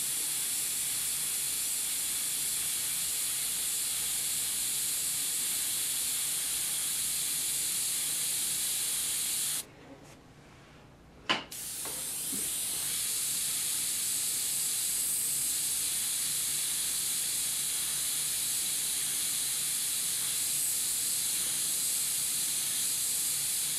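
An airbrush sprays with a steady, loud, close hiss, stops for about two seconds with a small click, then resumes the same continuous hiss.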